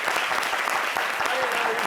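Studio audience applause on a television competition show, dense steady clapping throughout with faint voices underneath.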